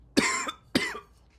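Two separate coughs about half a second apart, each sharp and fairly loud, from one person during a quiet moment indoors.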